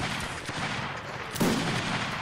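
Muskets fire in a Napoleonic Wars line-battle video game as a dense, noisy crackle of gunfire; a sharper burst hits partway through over a continuous rumbling din.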